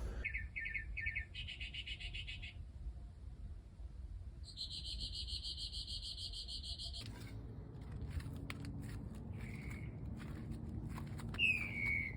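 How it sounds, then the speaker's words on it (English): Loud, busy birdsong with repeated chirps and trills, some calls sharp and close, continuing over steady outdoor background noise. "These birds just follow me. They're really loud."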